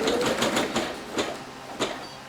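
A Singer Legacy SE-300 embroidery machine stitching an in-the-hoop project, a close rapid mechanical clatter in uneven bursts that slows toward the end.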